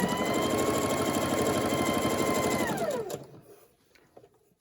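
A sewing machine stitches a diagonal seam on a Christmas table runner, its needle clattering in a rapid steady whir close by for about three seconds before winding down and stopping.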